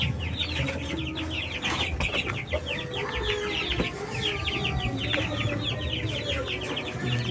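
Free-range backyard chickens cluck and chatter steadily while being fed a madre de agua feed mix, with many overlapping birds close by and a busy, continuous flock sound.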